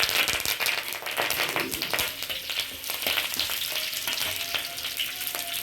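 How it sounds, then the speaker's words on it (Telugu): Curry leaves dropped into hot oil for a dry-fruit dish sizzle and crackle steadily up close, with sharp pops scattered through a continuous frying hiss. "ఇందులో కొంచెం వేడెక్కింది కదా, కరివేపాకు వేసుకోండి."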